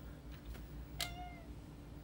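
A house cat gives a single short meow partway through, fairly clear against a steady low electronic hum in a room where an old Sega CD console is being tested.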